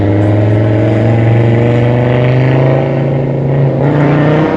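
An Audi Quattro rally car engine rumbles and revs close by, a loud, steady low drone whose pitch climbs gradually, with no talking over it.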